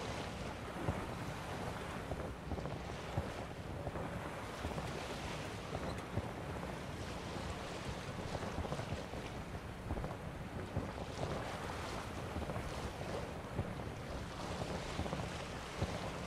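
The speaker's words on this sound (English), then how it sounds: "I like this little water effect" Water and sailing fast-travel effect in a video game: a steady, continuous wash of rushing water and wind-like whoosh, moderately loud and unbroken with no talking.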